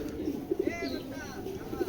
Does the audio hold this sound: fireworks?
no